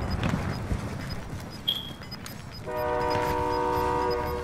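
A train in the video game Warzone rumbles and clatters among scattered game effects, then a loud sustained horn blares for the final stretch, near and dominant.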